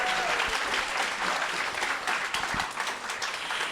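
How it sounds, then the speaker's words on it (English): Sustained crowd applause for tap dancers at a Concord's Got Talent 2025 talent show, a full, even roar of clapping hands that holds steady throughout, with a faint voice briefly underneath. "Let's give a big round of applause for the tap dancers."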